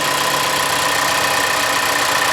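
A steady mechanical engine rattle from a new Toyota Land Cruiser's V6 at idle, loud and continuous, with a dense buzzing, clattering texture and no voices.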